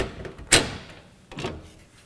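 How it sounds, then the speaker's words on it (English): The door of an AprilAire air cleaner is removed, giving two brief plastic clacks and scrapes close by, the first sharper and louder than the second. "we're going to remove the door."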